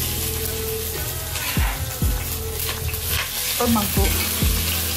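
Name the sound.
garlic, shallots and dried shrimp sautéing in a pan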